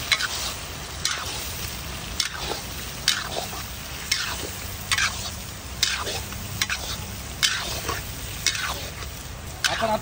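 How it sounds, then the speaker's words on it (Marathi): Lamb testicles sizzle in a pan of masala while a spoon stirs them. Steady frying hiss is broken by regular scraping strokes about once a second. "आता आपण याच्यात कपुरे टाकून घेऊ। कपुरे छान असं आपण आता परतून घेऊ त्यांना।"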